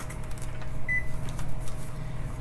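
A kitchen cooker gives one short, clear beep over a low, steady background hum in a quiet room.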